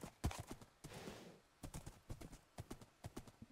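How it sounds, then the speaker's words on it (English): Horse hooves clip-clop in a game world, a series of quick, light hoof strikes in an uneven rhythm, quiet and close, with a short rustling burst between them. "This horse took off"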